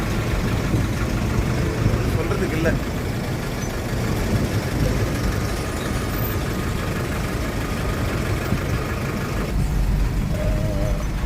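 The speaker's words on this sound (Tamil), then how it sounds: "நம்ம டிராஃபிக்கில் மாட்டிக்கிட்டோம்" Traffic jam on the Nellore highway, with idling vehicle engines rumbling low and steady alongside occasional louder passing engines, while someone talks over the noise.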